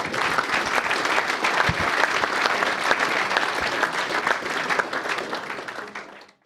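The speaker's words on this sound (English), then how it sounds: "deserves a round of applause" Steady, dense applause from a sizeable crowd at a rugby club dinner, loud and continuous for several seconds before tapering off at the end.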